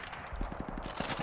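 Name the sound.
M60 machine gun firing in video game Call of Duty 4 Remastered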